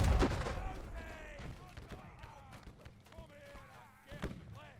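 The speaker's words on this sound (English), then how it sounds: "The artillery still continues to land." Artillery shells landing on a Napoleonic Waterloo battlefield in the Age of Napoleon mod, a heavy boom at the start followed by distant thumps and rumbling, with talk running over the top.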